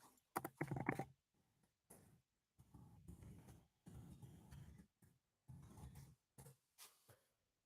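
Computer keyboard typing in short bursts of tapping, fairly quiet and close, with pauses between runs of keystrokes.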